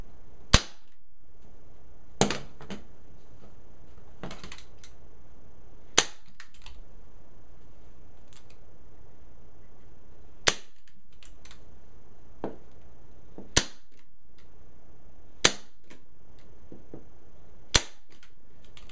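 A staple gun fires staples through stretched upholstery fabric on an auditorium chair, eight sharp isolated snaps spaced a couple of seconds apart with quiet handling noise between them.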